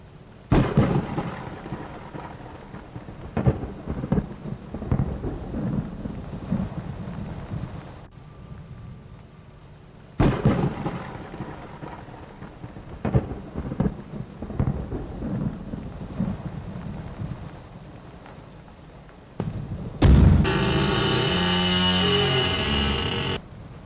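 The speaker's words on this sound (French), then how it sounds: "l'orage survient." Thunderstorm in a valley with rolling thunder rumbling through steady rain, loud and near, with repeated heavy cracks and a burst of intense downpour at the end.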